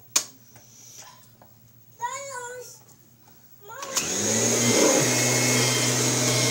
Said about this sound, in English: All right, I'm going to vacuum with a different Kirby today.